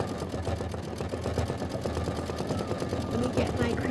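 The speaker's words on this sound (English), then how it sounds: "This is going to stitch the flower 2 satin outline." An embroidery machine stitches a satin flower outline, producing a rapid, even mechanical chatter with a low rhythmic thump that runs continuously and fairly close, with a faint background murmur.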